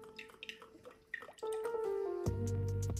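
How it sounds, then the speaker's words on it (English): Olive oil glugs out of a bottle as it is poured into a goulash pot, bubbling liquid sounds that start with small drips and build to a steady, close pour, with nobody talking. "Nice good glug."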